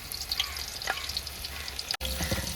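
Curry leaves fry with shallots in a hot pan for a vegetable stir-fry, giving a steady loud sizzle with bright crackles and pops, briefly cut off for a moment before the frying noise returns.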